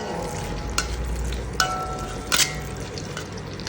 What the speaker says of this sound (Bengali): এখন আমি এটা খুব সুন্দর করে ভেজে নিব।